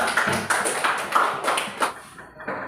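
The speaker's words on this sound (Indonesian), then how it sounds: "Oke, tepuk tangan buat kelompok petani dulu" A group claps for a farmers' team at a classroom-style gathering, producing a short run of rhythmic, fairly close hand claps that fade out after about two seconds.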